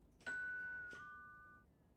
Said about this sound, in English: How can I ring my own doorbell?